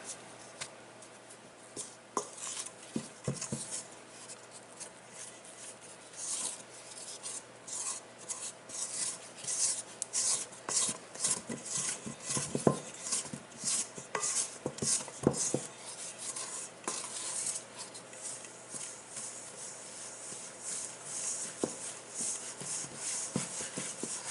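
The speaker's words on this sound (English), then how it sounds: "Now what we're going to do is mix this in." Bread dough ingredients are stirred together in a bowl, giving quiet, irregular rubbing and scraping strokes that continue for the whole stretch with no talking.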